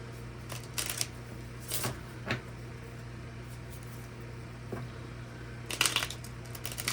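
Mystic Red Rose oracle cards being shuffled in quiet, crisp riffling bursts at irregular intervals over a low steady hum, with no talking.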